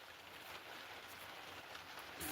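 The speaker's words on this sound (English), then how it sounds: "it sounds like the rain's picking up a bit" Rain falls steadily outside as a soft, even hiss of drops on surfaces, faint and continuous with no voices.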